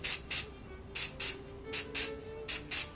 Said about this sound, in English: I just spray painted my body